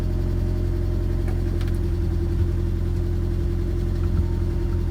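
A repaired car engine idles with a steady low rumble while the car is put into gear, a continuous close drone with a few light mechanical clicks.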